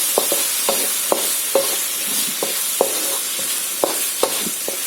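Baby corn Manchurian is stirred with sauces, black pepper and salt in a broad pan, a spatula scraping and knocking in an irregular rhythm of soft clicks over a steady background hiss.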